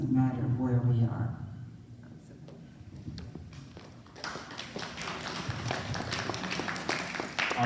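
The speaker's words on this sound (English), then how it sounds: "Unprompted applause is a show of support, so thank you for saying that." A church congregation breaks into unprompted applause: soft talk first, then steady, fairly faint clapping from many hands that fills the rest of the moment.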